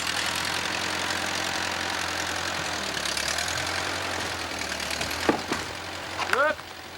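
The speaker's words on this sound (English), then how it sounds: "Now I gotta take the tractor, push the other end, get it on." A tractor engine runs steadily in the background while pushing a log into place at a student log home build, a low continuous drone with a few sharp knocks and a brief rising squeak near the end.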